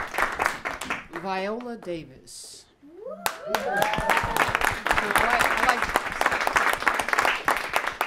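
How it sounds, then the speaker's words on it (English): An audience at a behind-the-scenes cast interview for the film Fences breaks into loud, sustained applause; a person speaks first, then the dense clapping runs steadily to the end. "Next to him, give him some applause."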